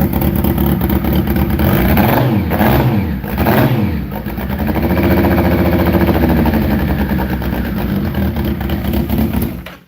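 A warmed-up car engine runs loud and close, with rising and falling revs in the first few seconds, then settles into a steady, even drone.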